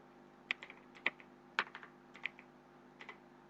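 Keystrokes on a computer keyboard while entering an SQL Select command in OpenOffice Base, about six to eight sharp separate clicks in an uneven rhythm over a steady low hum, close and fairly quiet.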